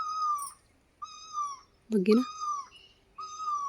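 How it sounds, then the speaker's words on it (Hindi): A small bird perched high in a tree gives a clear, repeated 'koo koo' call, four evenly spaced tonal phrases, with a brief spoken word cutting in between them. "उस वाले पेड़ पे बैठ रखी ऊपर, वहाँ से कर रही है कू कू रखी वो"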